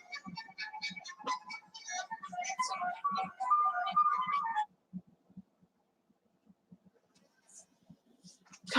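A mobile phone ringtone plays indoors as a bright, melodic electronic tune, loud for about four and a half seconds before cutting off abruptly. Afterward the room goes mostly quiet, with brief faint sounds.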